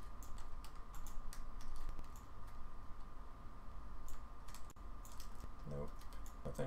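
Steady computer keyboard typing with scattered key clicks and spacebar presses during a visual effects software session, quiet and close against a low background hum, with a faint voice now and then.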